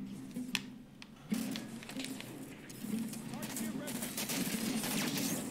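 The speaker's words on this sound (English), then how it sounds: "Black hole gun." Black hole gun firing in the Halo 5 video game, a burst of sharp rapid shots followed by a sustained crackling, rumbling roar, with someone talking over it.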